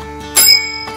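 A single temple bell strike rings out clearly in an ancient temple in Urgam Valley, Uttarakhand, its bright metallic tone sustaining and slowly fading, followed by a softer second ring near the end.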